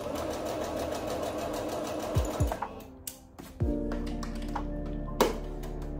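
A sewing machine stitches fabric for a Regency gown in a steady close whir, breaking into a few sharp clicks and knocks midway before running on in a lower hum with another sharp tap near the end.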